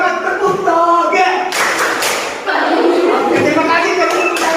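A school class plays the 'tepuk toge' clapping rhythm game, the students answering the teacher's call with loud, sharp group claps in bunched bursts and voices mixed in around them.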